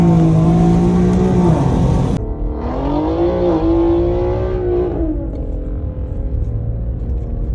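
Infiniti Q50 on RPF1 wheels pulling hard along a canyon road, engine note rising through the revs, a gear change, then climbing again before easing into a steadier, lower drone; loud and close, no talking.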